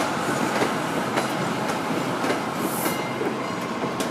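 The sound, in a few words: Amtrak Downeaster train leaving the station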